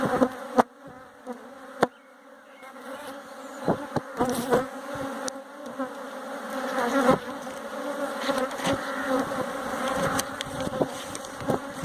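Honeybees buzzing around an open hive during an inspection, a steady close drone with shifting pitch as individual bees pass near, punctuated by a few sharp knocks and clicks of handling, no voices.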